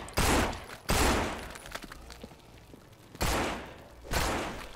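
Two pairs of loud, sharp gunshot bursts in the video game No More Room in Hell ring out with a quieter stretch of faint clicks and shuffling in between.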